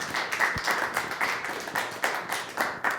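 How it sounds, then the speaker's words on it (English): Audience clapping for a participant at a body language workshop, a modest group giving rhythmic, moderately loud applause with distinct individual claps audible through the wash, no talk over it. "Big round of applause for Jeff."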